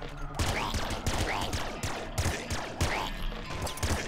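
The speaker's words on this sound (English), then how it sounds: "Just being able to one-shot these guys with the laser pistol is rather special" Repeated laser pistol shots in Nuclear Throne, a fast regular series of sharp zapping blasts with small impacts and chirps between them, loud and close, with no talk over them.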